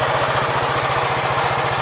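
A 1973 Gravely 408 tractor engine runs steadily close by, a loud rapid chugging pulse with a constant mechanical drone and no talk.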